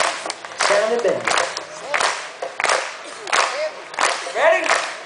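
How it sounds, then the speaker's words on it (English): An audience at the RockyGrass bluegrass festival claps along in a steady rhythm, with bursts of hand claps mixed with voices talking nearby. "clapping before we even start singing"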